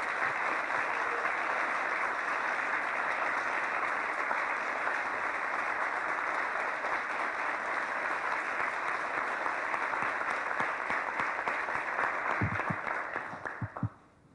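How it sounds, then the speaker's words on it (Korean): A forum audience welcomes a presidential candidate with loud, sustained applause that holds steady for about thirteen seconds, then thins into a few scattered claps and fades out. "여러분 뜨거운 박수로 환영을 부탁드리겠습니다."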